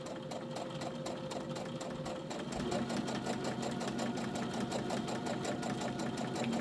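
A sewing machine runs steadily, stitching close along the edge of a tote bag with a fast, even mechanical rattle that grows slightly louder partway through, with no talking.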